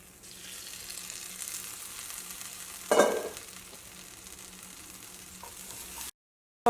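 Broccoli and egg sizzling in a hot pan, a constant frying hiss with one loud scrape and clatter of a spoon mixing midway; the sound drops out abruptly near the end.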